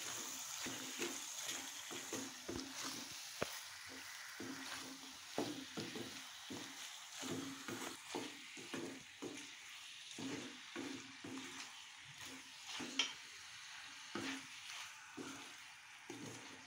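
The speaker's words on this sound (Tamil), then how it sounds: "அரைச்சி வச்ச ஜீரகத்தையும் மிளகையும் கொட்டிக்கலாமுங்க. கொட்டி கிளறி விட்டுக்கலாமுங்க நல்லா." Ground cumin and pepper being stirred into country chicken frying in a pan, with a soft steady sizzle and repeated scraping stirs, close and quiet, no talking.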